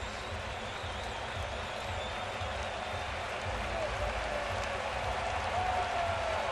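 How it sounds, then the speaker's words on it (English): Stadium crowd noise swelling steadily at a Cardinals vs Blue Jays baseball game before a full-count pitch, a broad continuous roar that builds louder toward the end. "Crowd comes alive"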